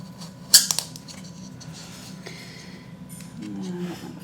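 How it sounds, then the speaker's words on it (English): Scissors snip through craft material for a Disney-inspired snowman Mickey and Minnie Mouse project, giving one sharp close cut followed by a couple of smaller clicks, then quiet handling sounds with a low hum underneath. "I'm going to go ahead and snip it to about the same size"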